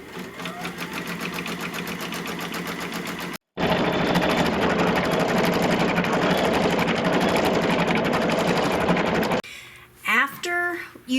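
Embroidery machine stitching a fabric tack-down on a quilt block, a loud continuous rapid mechanical chatter that cuts out briefly, resumes, then stops near the end before a few short machine sounds.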